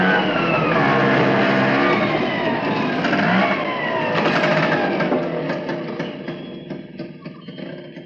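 An auto-rickshaw engine starts and pulls away, its close, buzzy putter rising in revs and then gradually fading as it drives off.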